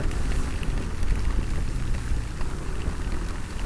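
Heavy rain drums steadily on a car's roof and windows, a dense, continuous patter heard from inside the vehicle with no voices over it.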